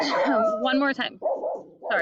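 A dog barks several times up close in a home, short sharp yelps and barks mixed with a person talking over them.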